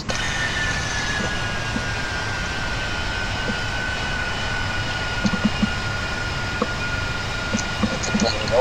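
Steady, continuous drone of an airliner's engines in the X-Plane 10 flight simulator on a flight from London Heathrow to Amsterdam Schiphol, an even broadband roar heard from inside with no talk.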